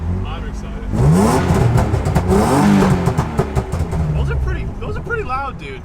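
A BMW E36 with a straight-piped exhaust revs in loud, rising bursts close by, its raspy roar swelling and falling several times while people talk over it.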